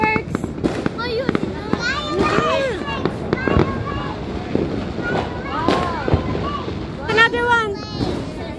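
New Year's Eve fireworks crackle and pop in repeated bursts, some near and some farther off, while people talk and call out excitedly over the noise.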